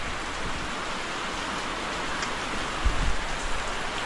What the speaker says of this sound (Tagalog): dire-diretso na naman yung ulan